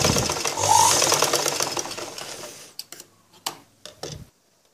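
A sewing machine hums continuously while stitching a cross-cut blouse, joining the front to the back at the shoulder, then stops, leaving a few sharp handling clicks and taps before silence.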